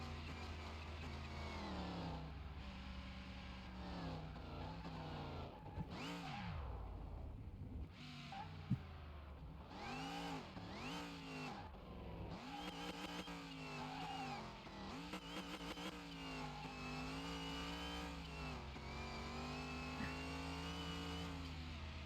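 A car engine in Car Mechanic Simulator held at top speed, around 146 miles an hour, with a steady loud drone whose pitch rises and falls as the gears shift, no voices.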